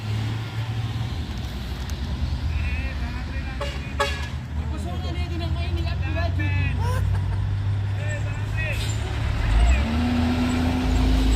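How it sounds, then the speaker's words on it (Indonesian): Heavy trucks crowd a hill road at Bukit Kodok, engines rumbling low and steady while horns toot several times, with people talking over the traffic. "ini truk ramai dari bawah sana ya bosku"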